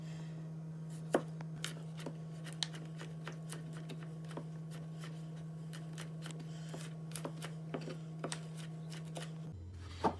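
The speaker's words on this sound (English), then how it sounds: "So we're cutting the garlic into very thin slivers." Sharp knife slicing garlic lengthways into thin slivers on a board, faint crisp cuts landing at an irregular steady pace over a low constant hum.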